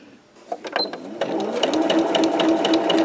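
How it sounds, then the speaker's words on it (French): A sewing machine stitches a straight line on a tote bag at reduced speed, starting with a few separate clicks and then running into a steady, fast, rhythmic whir close by. "Donc là, on coud sur la ligne en point droit jusque là."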